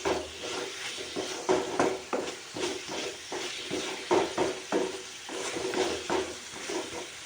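Onion and tomato sizzle and fry in a pan as a spoon stirs them, with steady frying hiss and repeated scraping strokes, close and continuous.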